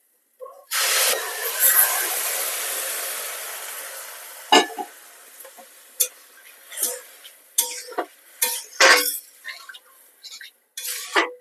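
Milk poured into a hot pan of grated carrots for halwa bursts into a loud hissing sizzle that fades over a few seconds, followed by scattered clinks and scrapes of a utensil against the pan.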